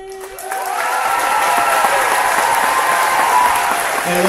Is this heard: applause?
yes